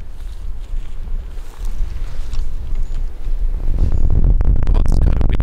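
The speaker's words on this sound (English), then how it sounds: "it's kind of windy this morning. That's really going to test this microphone." Wind buffets the microphone in low, rumbling gusts that grow heavier and louder toward the end, with no voices present, outdoors on a morning deer hunt.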